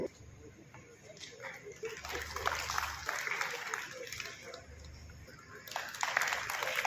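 A crowd at a Durga Puja administrative coordination meeting hosted by New Barrackpore police station claps in sustained, moderately loud applause, with someone talking over the clapping throughout.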